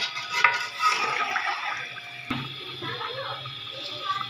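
Water pours and sloshes into a pot nearby for rice pulao, with a sharp metallic knock midway and faint kitchen clatter; a voice murmurs in the background.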